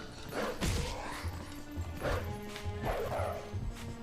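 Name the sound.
wolf Link barking in Zelda Twilight Princess HD video game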